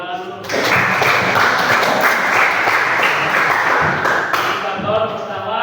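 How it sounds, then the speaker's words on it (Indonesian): A classroom of students claps together in a dense, steady burst of applause lasting several seconds, loud and close, with a few voices mixed in. "Oke, tepuk tangan dulu."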